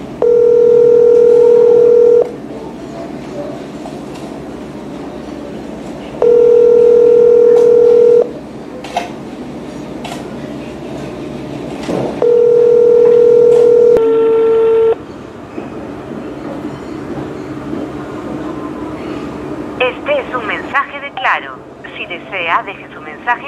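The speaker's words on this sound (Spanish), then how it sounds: "También llamamos al número de celular sin resultado positivo." Telephone call to a mobile number: a dial tone and ringback tone repeat as three long, loud beeps separated by pauses, followed by fainter clicks and line noise toward the end.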